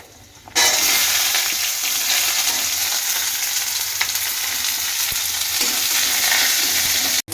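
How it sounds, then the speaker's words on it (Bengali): Whole spices and chopped onion drop into hot mustard oil in a pan, setting off a sudden loud, sustained sizzle that holds steady and close until it cuts off at the end, with no one speaking. "ফোড়নটা যখন লাল হয়ে আসবে তখন আমি পেঁয়াজ কুচি দিয়ে দেবো।"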